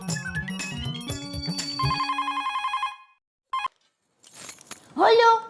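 A telephone rings with repeated electronic trills, then falls silent; a brief beep follows, then rustling and a voice at the end.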